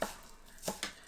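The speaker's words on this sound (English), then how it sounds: "You can sort of work and push the onion forwards as you're chopping," Knife finely dicing an onion on a board, with three crisp chopping taps, the first at once, then two close together near the end, each short and fairly close over a quiet background.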